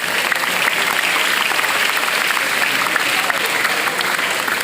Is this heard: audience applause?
yes